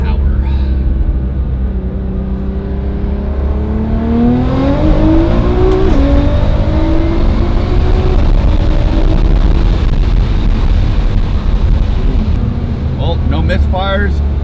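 A Nissan GT-R R35 engine drones loudly under heavy wind noise, its pitch climbing steadily through the gears as it accelerates hard.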